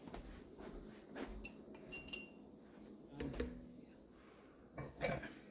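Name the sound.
canning jars being taken out and carried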